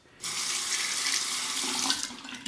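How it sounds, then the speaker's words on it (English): A bathroom tap starts abruptly and runs in a steady, close hiss as a face is rinsed during a shave, with a slight splashing change near the end; no talking. "Let's do a quick rinse of the face."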